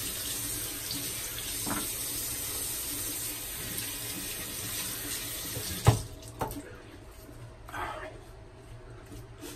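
Water from a tap runs steadily into a sink for a warm then cold rinse, a constant close hiss with a few clunks and splashes near the end, while a voice talks quietly beneath it.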